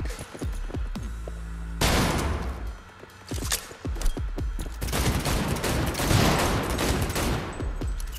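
Gunfire in the video game Cyberpunk 2077, loud close bursts of rapid shots and heavy booms in clusters, with ringing tails between volleys.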